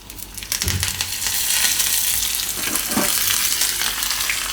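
Cloves, cinnamon pieces, bay leaves, dried red chillies and curry leaves crackle in hot oil as a tempering for mango rasam, a steady loud sizzle with a couple of stirring scrapes and no voices.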